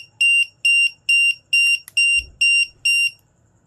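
A LiPo battery voltage tester's low-voltage buzzer alarm sounds seven sharp, high-pitched beeps in an even rhythm, close and loud, with a brief handling clunk partway through and no talking.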